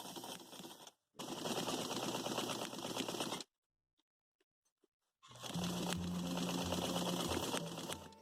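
Sewing machine stitching a 1/4 inch seam down the front of a shirt, two steady mechanical runs of rapid whirring separated by a pause with faint clicks.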